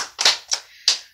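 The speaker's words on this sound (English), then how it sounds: "A round of applause." A few sharp hand claps break out at an award ceremony: three separate bursts, close and moderately loud, with brief gaps between them rather than sustained applause.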